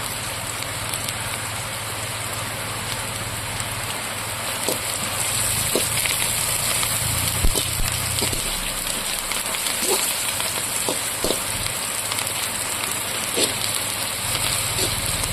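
Steady heavy rain from Cyclone Fengal falls on a village surface, a continuous close hiss with scattered drips and splashes and no speech.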